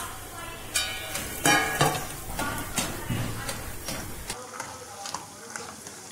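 Raw peanuts frying in hot oil for a Kerala-style spicy mixture, a steady sizzle broken by a few sharp clatters of stirring against the pan, close and fairly loud.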